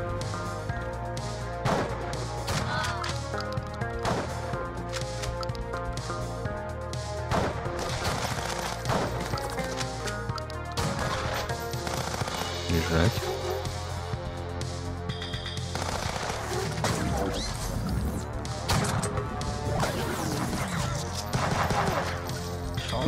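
Rapid gunfire from the run-and-gun video game Huntdown, sharp repeated shots and crashing impacts layered over a steady pounding game soundtrack throughout, fairly loud and dense.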